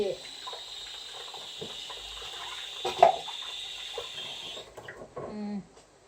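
Liquid poured into a container while making fermented fish in a home kitchen, a steady running trickle with a brief splash midway, followed by a short burst of nearby clatter as the pour ends.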